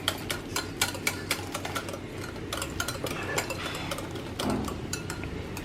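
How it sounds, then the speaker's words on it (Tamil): Half a cup of thick yogurt beaten with a utensil in a bowl for banana muffins gives a steady run of quick, close clinks and scrapes against the bowl, with no talking. "இதையும் நல்லா பீட் பண்ணிக்கலாம்."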